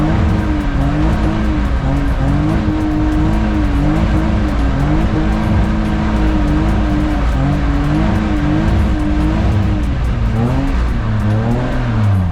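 A Mazda RX-8 drifts on a race track, its engine revving loud and continuous with rising and falling pitch as the throttle is worked, backed by a steady roar of tire and exhaust noise throughout.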